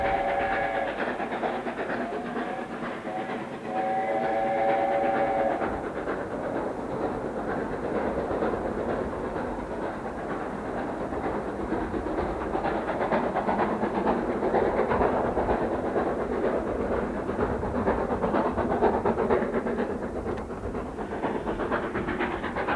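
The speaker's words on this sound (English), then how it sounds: "the steam trains that run on the North York Moors Railway" A steam train on the North York Moors Railway rumbles and hisses steadily on the rails, with a brief whistle-like tone early on, continuous and fairly loud throughout.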